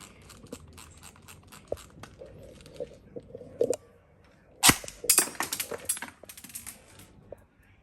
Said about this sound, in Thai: เดี๋ยวมาดูความเร็วกระสุนกันครับ